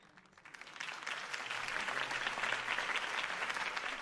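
A large crowd in the video game Batman: The Telltale Series breaks into applause after a campaign speech, quickly swelling and holding steady, a dense wash of clapping with faint cheering underneath.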